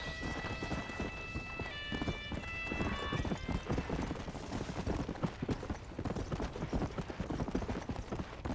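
A horse gallops in the Red Dead Redemption: Undead Nightmare video game, rapid steady hoofbeats thudding close and continuous, with a brief tonal game sound near the start.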